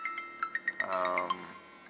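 A phone ringtone plays as a quick run of bright, chiming beeps followed by a short melodic phrase, close and moderately loud, with no talking over it.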